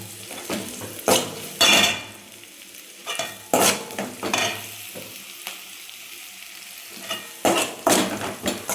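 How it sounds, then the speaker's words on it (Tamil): Semiya vermicelli is stirred in oil in a pan, giving repeated close scraping and rustling strokes in uneven bursts, with no voices. "நல்லா கிண்டிக்கணும்."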